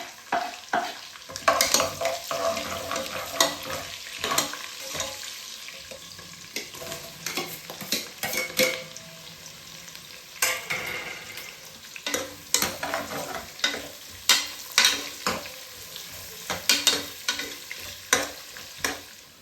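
Onions with bay leaves sizzle in ghee for ghee rice while a spatula repeatedly scrapes and stirs the pan, sharp stirring clatters recurring over a soft continuous frying hiss.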